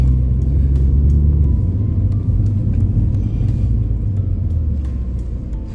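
A 2019 Mini Cooper Clubman John Cooper Works ALL4 wagon pulls away with a steady, loud low engine rumble and road noise from inside the cabin, easing slightly as it drives on.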